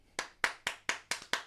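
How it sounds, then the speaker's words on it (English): Six sharp hand claps in a quiet room, evenly spaced at a moderate pace, each crisp and close with a short decay and no talking. "Nice clap."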